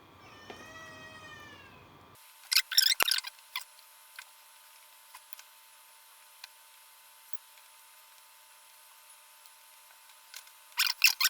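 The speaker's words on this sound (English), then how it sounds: "that's my cat, Mr. Dinner McFloppy Pants." A hungry house cat gives a short, clear meow up close, followed by quiet stretches with scattered soft taps and rustles, and a burst of light clattering near the end.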